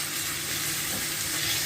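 Chopped chicken breast pieces fry with onions in a hot pan, giving a steady, close sizzle that holds evenly throughout, with no voices.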